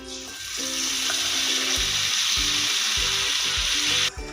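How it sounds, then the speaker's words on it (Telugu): Cooked tamarind pulp fries in a tempering with asafoetida for festival tamarind pulihora, producing a loud, steady sizzle close by. Faint stirring sounds sit over a pulsing low tone. "ఇప్పుడు ఈ తాలింపులో చింతపండు గుజ్జుని ఒక ఫైవ్ మినిట్స్ ఫ్రై చేసుకోవాలి"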